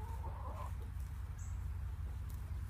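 A few short hen clucks sound nearby on a farm during feeding, over a steady low rumble, brief and scattered.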